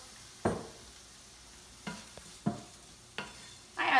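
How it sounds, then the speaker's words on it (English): White wine poured into a hot pan while making mushroom risotto gives short bursts of sizzling and stirring, several sharp hisses spaced a second or so apart, close and moderately loud with no voices. "That's gonna help deglaze the pan just a little bit."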